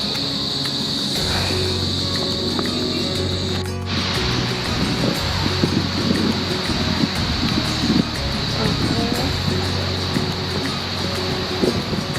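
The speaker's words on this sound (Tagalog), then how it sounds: "Super lakas ng hangin." Strong wind blows through the woods in a loud, continuous rush with gusty buffeting against the microphone and a faint, steady hum underneath, with no clear talking.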